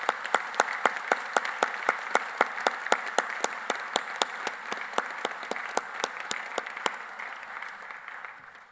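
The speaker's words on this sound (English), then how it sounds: "I think we should give all of my colleagues at the university a round of applause." Audience applause at a Teesside University graduation ceremony, a steady wash of many hands clapping with a few sharp nearby claps standing out, sustained throughout and tapering slightly at the end.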